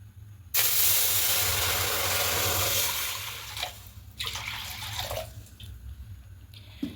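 Water poured into a hot wok just taken off the gas bursts into a loud, close hissing steam that fades unevenly over several seconds, with faint drips and no speech.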